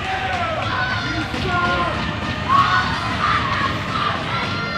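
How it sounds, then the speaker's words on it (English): A crowd at a college men's ice hockey game between Oklahoma and Colorado cheers and shouts in a sustained, rowdy roar that swells and dips across the arena, with a commentator's voice faintly mixed in. "Crowd really getting into it here as captains were convening there, trying to find out the verdict"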